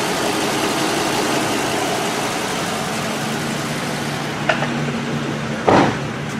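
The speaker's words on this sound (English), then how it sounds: "Exhaust system sounds a lot better. It's nice and quiet." A 2010 ambulance engine idles steadily with a low, even, quiet exhaust rumble through a repaired exhaust system, constant throughout with a brief louder knock near the end.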